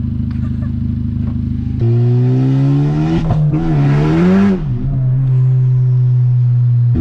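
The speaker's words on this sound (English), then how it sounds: "There's a Turbo Civic. That was pretty fast." A turbocharged Honda Civic Type R with a titanium inlet pipe roars past fast and close, its loud engine note rising and then falling as it accelerates by, with a steady engine hum before and after the pass.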